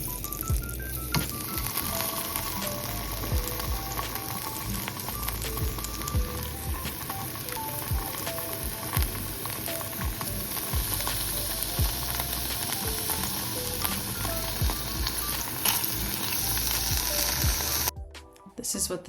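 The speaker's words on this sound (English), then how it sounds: "I'll just basically pan fry the tofu so that there's some sear on the sides" Tofu pan-fries in a crowded pan to sear its sides, sizzling steadily and loudly throughout with occasional scraping and clinking as it is stirred, then the sound cuts off abruptly near the end.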